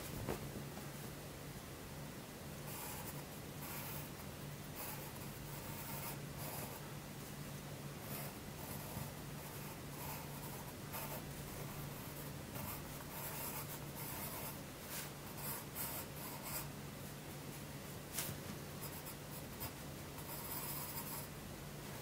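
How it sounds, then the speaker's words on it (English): Pen scratching and rubbing across paper during a blindfolded drawing, soft continuous strokes with brief bursts of scribbling, close and quiet against faint background hiss. "I'm gonna be drawing something."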